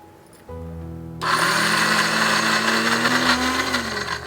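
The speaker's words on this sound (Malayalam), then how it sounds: "ഇതിനി ഒന്ന് അരച്ചെടുക്കണം" A kitchen mixer grinds coconut and cumin for kichadi, starting with a low hum before the motor spins up into a loud, steady whirring grind that holds with slight pitch shifts.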